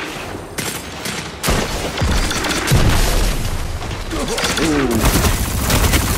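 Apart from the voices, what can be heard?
hand cannon gunfire in Destiny 2 video game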